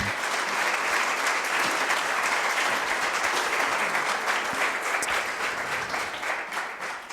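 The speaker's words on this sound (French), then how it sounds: "Je vous demande d'applaudir chaleureusement Monsieur Gilles Babinet." Warm, sustained audience applause fills an evening event hall as a guest, Gilles Babinet, is welcomed, a dense steady clapping that holds for about seven seconds before beginning to thin out slightly at the end.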